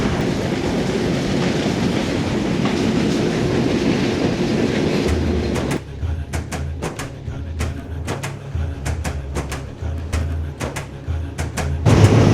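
A Benapole Express train rumbles along the rails, steady broadband roar giving way to a low rhythmic clatter of wheels over track joints with sharp clicks.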